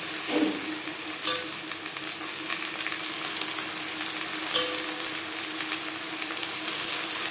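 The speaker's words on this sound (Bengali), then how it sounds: "পেঁয়াজ রসুন ভেজে দেবো" Steady sizzling of onion and garlic frying in a pan, with occasional stirring scrapes; no talking.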